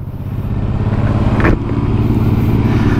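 A Suzuki DRZ 400SM supermoto with a 398 cc single-cylinder engine, ridden at speed with a steady, throbbing exhaust drone, loud and close, plus one brief rising rev midway.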